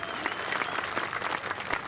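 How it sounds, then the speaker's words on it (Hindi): A crowd at a political gathering claps together in a brief, brisk round of applause, the hand claps close and fairly loud over a murmur of voices. "जोरदार ताली बजाओ भाई"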